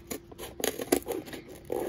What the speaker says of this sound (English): you want to put your cardboard all the way to the back of your scissors